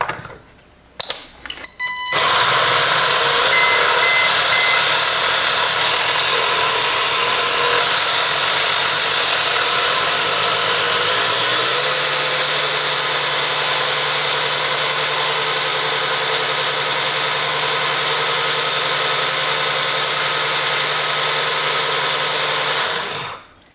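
A WLtoys K969 1:28 scale RC drift car motor spins up on a dyno after a few brief clicks, settling into a steady, loud high-pitched whine that holds for about twenty seconds, dips in tone partway through, then cuts off.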